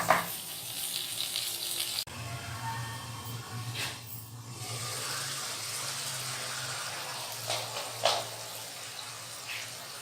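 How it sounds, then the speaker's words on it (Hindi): Indian masala for reshmi kofta frying in oil in a pan, a steady soft sizzle and bubble that holds throughout with a couple of brief louder spits. "अच्छे से जब ये भुन जाएगा मसाला ऑयल में"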